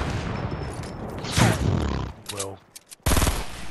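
Rapid bursts of sniper gunfire from a video game ring out loud and close, several sharp cracks with a heavy burst near the end, while a player talks briefly between shots.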